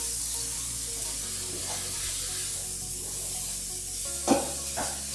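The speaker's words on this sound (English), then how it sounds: "Back to the stove, the mushrooms starting to cook a little bit more." Mushrooms sizzle in a pan on the stove beside risotto cooking, a steady broad hiss throughout with a brief louder clatter near the end; no one speaks.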